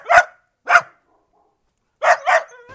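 A dog barks close and loud: two single barks, a pause, then a quick double bark, followed by a soft whine.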